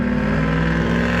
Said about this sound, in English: Mr. Diesel truck.